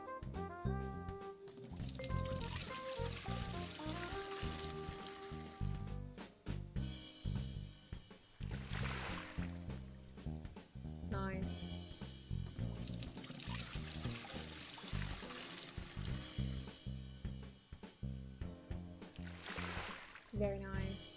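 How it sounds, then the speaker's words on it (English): A bucket being filled with water from a sink in Aquatic Store Simulator, with a few short bursts of pouring and splashing breaking through steady background music, with a voice talking now and then. "While holding the bucket, click on the sink to fill it with water."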